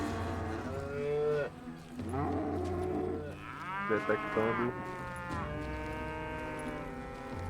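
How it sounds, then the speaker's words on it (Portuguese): Cow mooing in the western video game Call of Juarez: Gunslinger, with several long, drawn-out moos in close succession, loud and near, over a faint game backdrop. "Ó, vocês verem que é uma vaca."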